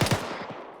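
Rapid bursts of automatic gunfire from ArmA 3 military gameplay, shots fired into the dirt: two sharp close reports followed by a quickly fading rattle of rounds, heard alone.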